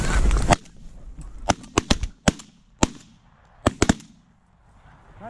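Shotguns firing at geese during a corn field goose hunt over a small decoy rig, about eight sharp loud blasts in quick irregular bursts, outdoors in open air with brief shouting before the volley.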